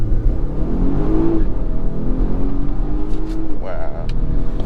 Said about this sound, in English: Now we do have to do a quick acceleration and see how it does.